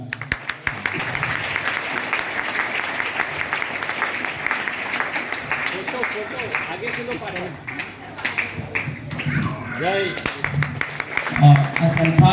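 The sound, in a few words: applause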